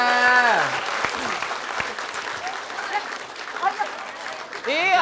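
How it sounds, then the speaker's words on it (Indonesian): Studio audience applause on an Indonesian comedy game show, a steady wash of clapping under loud voices and shouting, swelling again at the end. "Tepuk tangan dulu dong, Bu."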